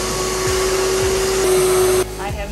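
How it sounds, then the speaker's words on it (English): A vacuum cleaner running off Battle Born batteries inside a bus conversion drones steadily and loudly with a constant whine, then cuts off abruptly near the end, leaving a quieter hum. "We can vacuum from our Battleborne batteries."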